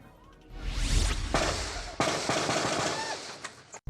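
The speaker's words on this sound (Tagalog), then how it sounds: "umaalingaw ang mga putok ng baril sa polling center" Rapid bursts of gunfire crack out in quick succession at a polling center after voting in Sultan Kudarat, loud and sharp, with a noisy crowd in the background.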